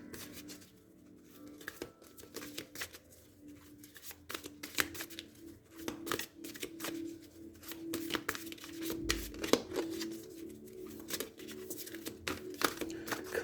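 Tarot-style astrological cards being shuffled by hand, a steady run of soft riffling, flicking and papery slaps close to the microphone, continuing without talk.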